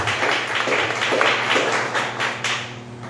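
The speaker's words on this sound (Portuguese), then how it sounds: "Vamos aplaudir ao Senhor?" A church congregation applauds during a worship service, a fairly close burst of scattered hand clapping with uneven rhythm and a few louder claps standing out, lasting a few seconds.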